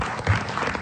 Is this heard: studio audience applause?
yes